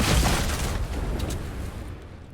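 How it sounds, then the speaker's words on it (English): Dynamite explosions in a video game: a deep, loud boom at the start followed by a long rumbling, crackling decay that fades over about two seconds. "all these explosions?"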